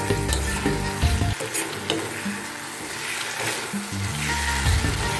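Potatoes stirred and frying in a pan for paneer masala, with continuous sizzling oil and scraping, clattering strokes of a spoon against the pot, loud and close with no talking.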